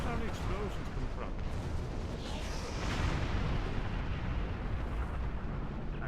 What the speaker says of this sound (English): What do those all explosions come from?